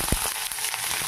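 Onion and green chili hit hot oil already popping with mustard and other seeds, giving a loud, steady sizzle with a sharp crackle near the start.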